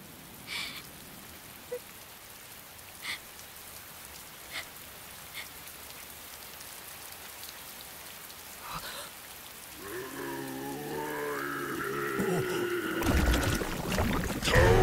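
Rain falls in an animated Gegege no Kitaro episode as a soft, steady patter with scattered louder drops, then a rising tonal swell of other sounds builds over it near the end.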